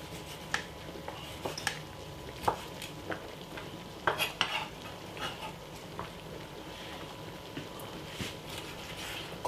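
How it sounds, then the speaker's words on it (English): A knife scrapes the skin off a lemon in a juice bar kitchen while a melon smoothie is made: faint, irregular clicks and scratches of blade on peel over quiet room tone. "remove the skin from the lemon"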